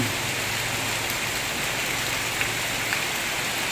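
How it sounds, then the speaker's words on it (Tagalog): Heavy rain pours steadily without pause in Metro Manila, a dense, loud hiss of drops drumming on surfaces nearby. "pagka ganitong tuloy-tuloy yung ulan"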